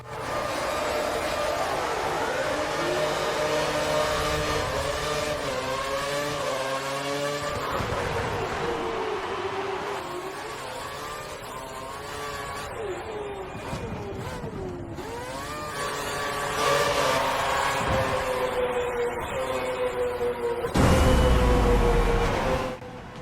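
Formula 1 race car engines in F1 2013, a continuous high revving whine with rising and falling pitch as gears shift, steady and loud throughout with multiple cars audible.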